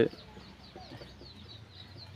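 Soft clucking from a few free-range desi chickens in a sugarcane field, faint and somewhat distant, with quiet rustling underneath; no voices.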